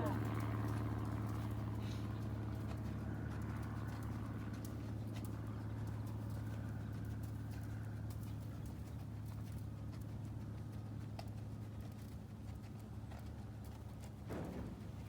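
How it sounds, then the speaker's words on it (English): A horse moving on foot outdoors, its hooves clip-clopping in a steady rhythm at a modest distance, while people talk throughout and a bird calls faintly now and then. "the horse, I mean, was screaming and running"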